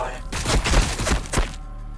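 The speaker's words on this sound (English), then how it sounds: "We're taking fire!" A quick volley of heavy gunfire and thudding impacts in Warhammer 40K: Battlesector, several close, booming blasts in rapid succession over a low rumble, with a voice mixed in.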